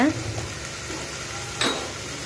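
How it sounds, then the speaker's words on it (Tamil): Okra (ladies finger) sautéing in a pan with turmeric, a steady sizzle and soft scraping as it is stirred, with one brief louder clatter of the utensil partway through. "வெண்டைக்காய் வந்து இந்த வளவளப்பு போகிற அளவுக்கு கொஞ்சம் நல்லா வதக்கி விடுங்க"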